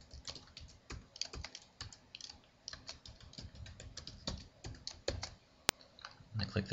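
Fingers type a database password on a computer keyboard in quick, irregular clicking keystrokes, close and fairly quiet, with one sharp click near the end and a voice coming in at the close.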